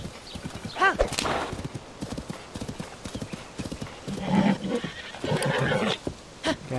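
Horse hooves clip-clopping with a neigh from a horse in the Zelda: Tears of the Kingdom video game, game audio running steadily while someone talks over it.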